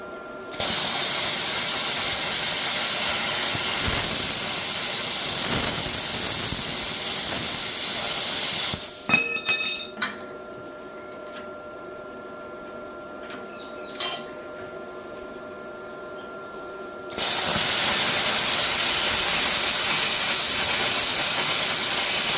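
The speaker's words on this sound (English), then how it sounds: "we got the Vevor CUT50P hooked up on 110 volts. And we're gonna cut some 1/4 inch" A Vevor CUT50P plasma cutter running on 110 volts cuts quarter-inch steel with a loud, steady rushing hiss. The hiss breaks off midway with a few clicks and a quieter stretch, then resumes at full strength.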